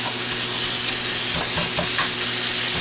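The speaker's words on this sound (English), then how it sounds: "We're going to get it started browning." Potato-stuffing filling for rellenos de papa browns in a pan, giving a steady close sizzle with a few stirring scrapes, no talking.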